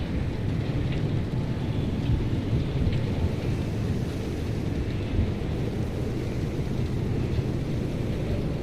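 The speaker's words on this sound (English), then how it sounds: "This is really strong storm for not being a legitimate storm." A heavy thunderstorm in the survival driving game Pacific Drive roars on steadily, dense rain and rolling thunder rumbling without pause, with nobody speaking.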